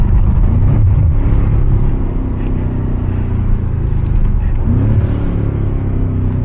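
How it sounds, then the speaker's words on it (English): A BMW M8 with a big turbo revving hard during a drive, its loud, steady engine rumble filling the whole stretch with pitch sweeps upward near the start and again around the five-second mark. "Hear the turbo?"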